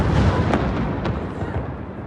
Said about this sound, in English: You can see that explosion.